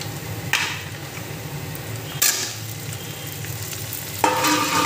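Pre-fried chicken for butter garlic chicken being tossed in a pan, a constant frying sizzle broken by three sharp scraping spatula strokes, near and with no one speaking.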